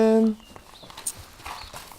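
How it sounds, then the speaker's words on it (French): Horse hooves clip-clop in a scattered walking rhythm on a farm as horses are led out to a paddock, following a brief tonal sound at the start. "je monte, je sors les chevaux au paddock"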